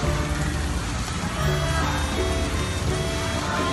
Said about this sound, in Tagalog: Ang hirap pag umuulan.